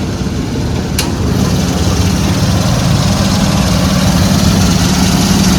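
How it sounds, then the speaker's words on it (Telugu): A Maruti 800 engine idles with the bonnet open, a loud, close, steady low rumble and vibration running throughout with one brief sharp click near the start. "ఇంజన్ అయితే స్టార్ట్ అయింది ఇప్పుడు ఇంజన్ ఆన్లో ఉంది సో బానెట్ ఓపెన్ చేస్తున్నా"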